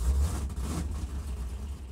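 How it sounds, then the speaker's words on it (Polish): A low, rumbling vehicle engine idling steadily in the Ranch Simulator game, a continuous deep hum with a slight swell at the start, moderately loud. "Silnik to mu chyba z Wartburga wyciągnęli, kuźwa."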